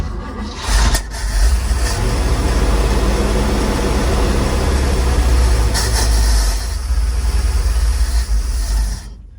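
A 1948 GMC COE truck engine, sitting unused for many years, starts on a little choke and settles into a loud, continuous low rumble that holds steady before easing off at the very end.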